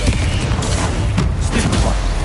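Confringo spell in the Hogwarts Legacy video game, a loud, dense fiery blast with crackling rumble that fills the whole moment, heavy and continuous, with a voice partly buried underneath.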